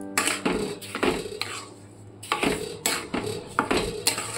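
Raw sour mango stirred with sugar in a pan for a sweet-sour mango jelly pickle: a spoon repeatedly scrapes and clinks against the metal in steady, close bursts, with no talking.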